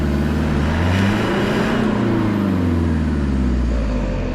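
A 4x4 off-road vehicle's wheels spin on an icy slope during a winter mud-and-snow raid in Lozère, the engine loud and close, revving and droning continuously with shifting pitch as it struggles for grip.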